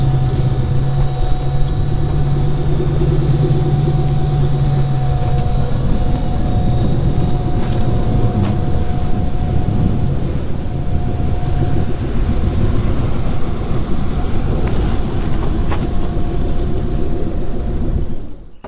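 A big-turbo, Coyote-powered stick shift car drives on a street, a loud sustained engine drone with a faint whine and steady road roar that continues unbroken before cutting off abruptly at the end.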